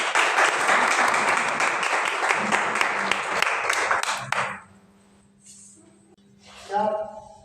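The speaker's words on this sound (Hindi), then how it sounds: "इसलिए जोरदार ताली" A church congregation in Pakistan bursts into loud, dense applause that holds steady for about four seconds before cutting off, followed by a quiet stretch and a brief voice over the sound system.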